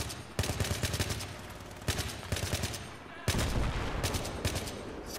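Dense rapid gunfire in the Battlefield 3 video game at Seine Crossing: rattling automatic bursts and sharp shots stack up close and loud, with brief lulls between volleys and no voices.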